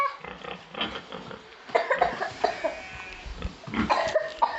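Pigs at Willow Grange farm grunt and snort close by in a series of irregular, overlapping bursts that grow busier toward the end.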